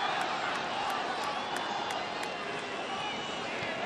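Stadium crowd at a football match between FC Barcelona and AC Milan in Baltimore, a steady broad roar of cheering fans rising to their feet, with faint sharp whistles or claps popping above the continuous din.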